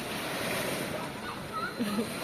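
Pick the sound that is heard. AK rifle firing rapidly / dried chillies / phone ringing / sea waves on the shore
sea waves on the shore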